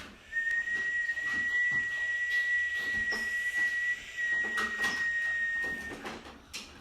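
A person whistles out each breath in a long, steady single-pitched tone lasting several seconds, with a brief break partway through, close and clear with faint room noise underneath.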